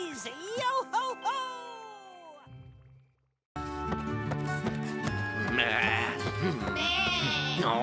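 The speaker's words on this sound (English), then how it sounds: "I've had quite enough of that bleating sheep." Sheep bleat in wavering, nasal cries in a children's cartoon at the start, then a brief pause before a busy burst of music with more bleat-like tones.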